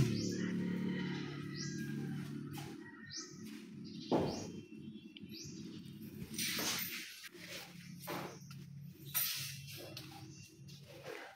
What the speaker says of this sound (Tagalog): May ibon dito nakakapanhik,